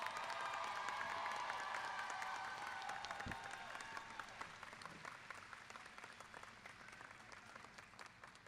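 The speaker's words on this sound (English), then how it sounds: "One more round of applause for our class of 2024." Graduation audience at a high school ceremony breaks into sustained applause and some cheering, a dense crowd of clapping that starts strong and slowly fades over several seconds, heard from within the hall.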